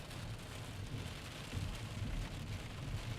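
A noisy evening thunderstorm, with steady rain pattering on surfaces and low thunder rumbling throughout, fairly loud and continuous with no voices.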